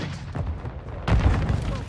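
Grenade blasts in the Call of Duty: Modern Warfare II video game, a heavy low boom erupting midway through amid gunfire and battlefield noise, with someone speaking briefly over the action.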